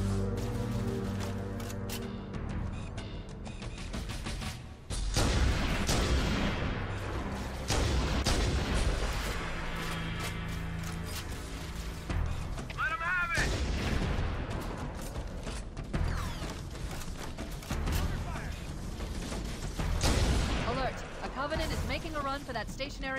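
Heavy gunfire and explosive booms in Halo: Combat Evolved, with bursts of weapon fire, impacts and mechanical clatter in repeated loud waves over a game battle, with voices calling out between the shots.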